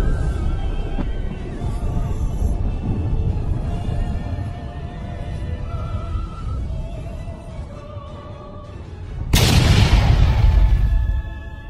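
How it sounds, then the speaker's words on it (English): A great golden explosion bursts in a Dragon Ball animation. Several seconds of tonal background score lead into one sudden, loud, booming blast that lingers to the end. "Goku would increase a great part of his power by observing a great golden explosion at the top"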